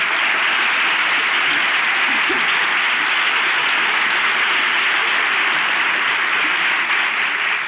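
Loud, sustained studio audience applause from a Turkish talk show, a steady wash of clapping from the crowd with no speech over it.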